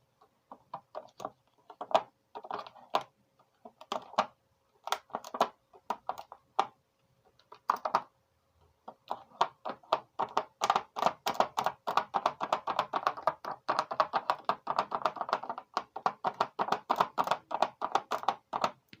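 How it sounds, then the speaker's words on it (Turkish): Rapid light taps and clicks of something poking holes in a plastic container lid, in scattered bursts at first, then a dense, steady run of close, crisp pricks. "Bunu hava delikleri açalım."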